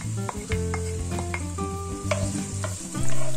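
Onion and garlic fry in hot oil, a steady close sizzle broken by repeated scraping stirs with a few sharp utensil knocks against the pan, with no talking.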